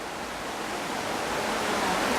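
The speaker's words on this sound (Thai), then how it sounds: "น้ำตกนะครับด้านล่าง" Waterfall flowing below a viewpoint in Mae Kampong village, Chiang Mai, a steady broadband rush of falling water that swells slightly louder toward the end, with no talk.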